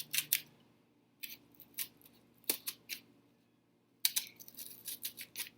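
Scissors snip through a fairly thin piece of cardboard along drawn lines, giving close, crisp cuts in quick clusters separated by brief quiet gaps.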